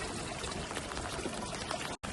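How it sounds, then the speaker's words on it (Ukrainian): Clean mountain water is poured into a container at an alpine waterfall spot in Lauterbrunnen, Switzerland, a steady, close rushing pour filling the whole moment before it cuts off abruptly. "А ми зараз наберемо чистої гірської води."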